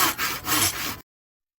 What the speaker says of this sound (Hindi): जंगल के सन्नाटे में आरी की आवाज गूंजने लगी।